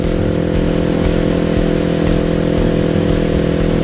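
Steady, loud engine drone with a low rumbling exhaust tone, continuous throughout with no pauses and no voices.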